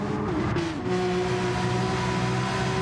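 A Honda race car in Gran Turismo 7 pulls away onto its warm-up lap at Sardegna, a steady loud engine drone with a gear-change pitch dip early, running continuously throughout.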